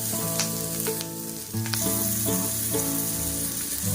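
Spices sizzling loudly in a hot pan before bottle gourd is added, a continuous crackling hiss with a few sharp stirring clicks, heard up close.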